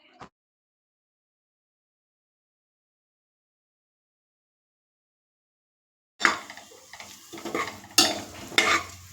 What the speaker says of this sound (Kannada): ಇವೆಲ್ಲವನ್ನು ಸೇರಿಸಿ ನಾವು ಚೆನ್ನಾಗಿ ಬಾಡಿಸ್ಕೊಳ್ಬೇಕು.